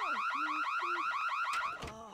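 Burglar alarm in The Sims 1 video game, a loud, continuous warbling electronic siren rising and falling rapidly, with a couple of short bangs near the end.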